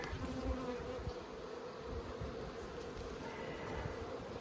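Honeybees buzz steadily and continuously throughout a beehive inspection at an outdoor bee yard, a dense close swarm hum with no talking.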